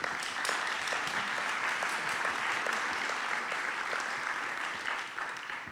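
A crowd applauds a university jury at the opening of a Portuguese cinema festival, with dense, steady clapping that holds strong throughout and eases slightly near the end.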